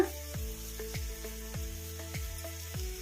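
Masala sizzles in a frying pan with tomato ketchup added, a continuous hiss broken by regular clinks of a spoon stirring against the pan.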